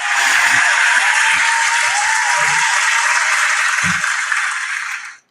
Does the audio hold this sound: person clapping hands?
yes